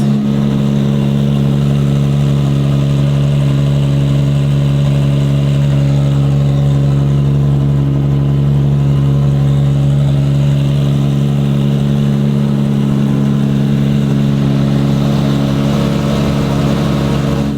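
A 1700 HP 2JZ engine built for a Dart Supra runs on an engine dyno, a loud, steady drone with a strong low hum that holds unbroken and close for the whole stretch, with no talk over it.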